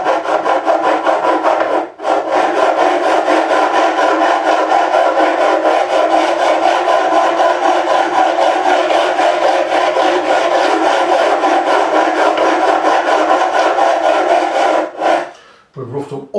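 Steady rasping file strokes across guitar frets during fret leveling on a Harley Benton 35 Plus guitar, a continuous loud abrasive scrape running without pause before a brief break near the end.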